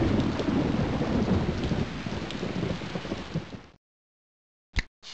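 Warm spring rain with thunder at Acorn Pond in the educational game Sammy's Science House. A steady downpour with low rumbling stops abruptly, and two short bursts of storm noise follow after a pause.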